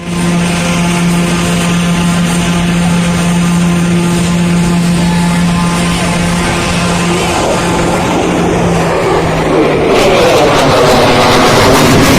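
Loud, continuous roar of an airplane engine with a droning propeller hum at the Teknofest 2023 aviation and defense festival, rising and shifting toward the end as it passes close by.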